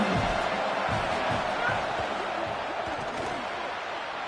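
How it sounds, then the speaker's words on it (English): A home crowd roars in an NCAA college football video game, a broad, steady wall of cheering noise that holds throughout and fades slightly toward the end. "how nice is it to have that home crowd going absolutely bananas"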